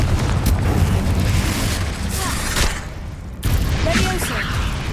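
A Confringo spell blast in Hogwarts Legacy: loud booming explosion bursts over busy game ambience, with a clear cut-off and a fresh blast about two-thirds through; no talking.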